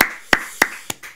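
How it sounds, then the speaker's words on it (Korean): A few separate hand claps from a church congregation during a prayer service, about four sharp isolated strikes spaced roughly a third of a second apart, close and moderately loud with no talk. "믿는 분들 박수 함께 드리겠습니다"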